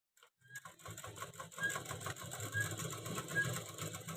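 A sewing machine stitches a blouse in a steady, close mechanical whir, its needle pattering rapidly and evenly throughout with no talk over it.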